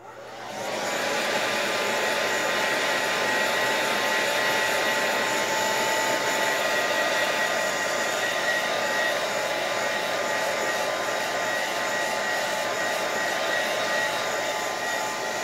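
Hair dryer drying an art journal page with distress oxide inks, spinning up and then blowing as a loud, steady whooshing hum throughout, close by and without talk.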